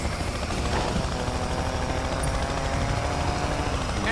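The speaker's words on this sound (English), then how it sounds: "That chopper's gonna shut you down." A police helicopter in the Need for Speed Payback video game, its rotor drone loud, steady and unbroken, with a constant rapid chop throughout and no voices.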